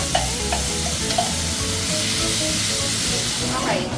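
Squid hitting a hot pan and frying, a steady broad sizzle and hiss that holds for the whole stretch, close by, with a few faint clinks and scrapes over it.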